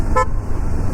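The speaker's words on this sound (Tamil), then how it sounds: "ஹாரன் ரொம்ப பிடிச்சது இல்லைங்க, சூப்பராக இருக்குல்ல." A single short toot from the horn of a Kawasaki Ninja 500 motorcycle, close and bright, lasting a fraction of a second over a low background hum.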